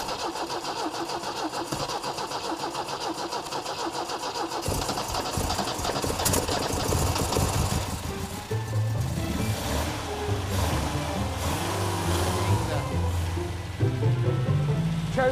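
The engine of a 1970 MGB Roadster cranks, catches and fires, then runs roughly and revs up and down near the microphone.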